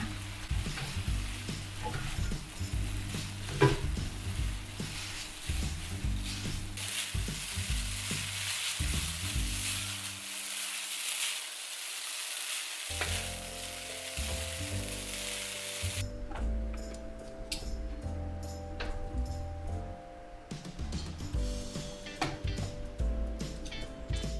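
Stir-frying with oyster sauce and sugar produces a continuous, close sizzle with occasional stirring scrapes, running under steady background music throughout.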